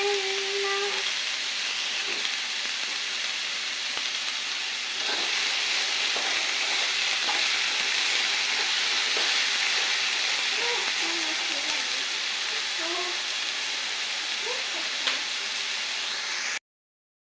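Potatoes sizzling and frying in a pan, a steady, close hiss of hot oil that runs throughout, with soft stirring scrapes and a little quiet talk in the background.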